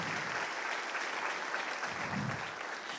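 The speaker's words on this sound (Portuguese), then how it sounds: "Vamos aplaudir ao Senhor" A church congregation claps steadily for three seconds, a dense even wash of applause with no break.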